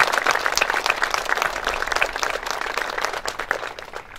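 An audience applauds at a school building dedication ceremony, with steady, dense clapping from many hands in an indoor room that holds even and moderately loud, then thins slightly toward the end.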